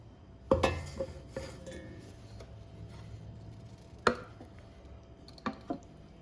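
A cooled mixture of milk, rice flour and sugar is tipped into a mixer jar for Kerala-style rice flour ice cream, with sharp clinks and knocks of utensil against jar, a few scattered taps and a quiet kitchen background.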